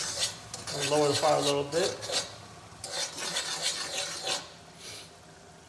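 Spoon scraping and rasping through dry crawfish seasoning in a pot, a gritty stirring rub repeated in bursts under a speaking voice.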